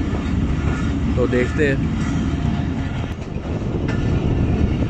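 Chaman Passenger train running through hilly country between Quetta and Chaman, a steady loud rumble of rail cars with faint clatter throughout, someone speaking briefly over it.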